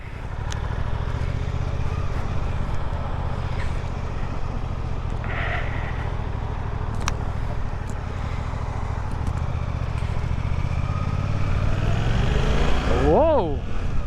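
A 2024 Suzuki GSX-8R sport bike with a 776 cc engine accelerating, a steady close engine drone with wind rush, building in pitch near the end as it pulls harder.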